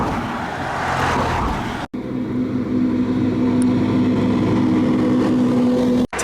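A Verge TS Pro electric motorcycle riding on the highway with a worn tire, giving a steady loud rush of wind and road noise with a faint motor whine, broken by two brief dropouts.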